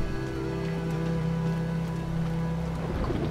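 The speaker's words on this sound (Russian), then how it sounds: "Какой-то дождь, гроза тут." Steady rain patters over a low, continuous rumble of thunderstorm with sustained tones underneath, an even wash of wet ambience with no voices, in the video game Battle Chasers: Nightwar.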